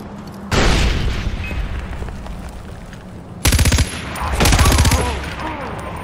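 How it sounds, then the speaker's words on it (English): A loud grenade blast in Far Cry 4, a deep booming explosion amid bursts of rapid gunfire, close and heavy. "Heads down, grenade out!"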